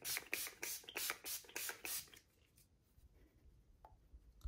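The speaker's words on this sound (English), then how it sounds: "I'm gonna set with the All Nighter spray" All Nighter setting spray spritzed onto a face during makeup, six or seven quick close hissing pumps in a row, then quiet.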